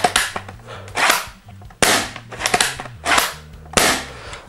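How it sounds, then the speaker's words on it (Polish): A CYMA CM.350 pump-action airsoft shotgun fires four sharp, snappy shots at an even pace, with the clack of the pump being worked between them, close up and indoors. "Musimy oddać strzał."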